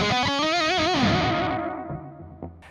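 Distorted electric guitar played through a Boss DD-6 digital delay pedal: a few sustained, wavering notes ring out loud and alone, then the repeats trail off and fade, with faint handling noises at the end.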